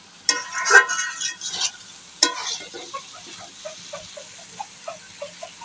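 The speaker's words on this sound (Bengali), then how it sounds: "তো ঢাকনাটা খুলে একটু নেড়ে চেড়ে দিলাম" Hilsa fish curry with spices being stirred in a pan, with a few clattering scrapes of a utensil at the start and then a soft, rhythmic sizzle bubbling on its own.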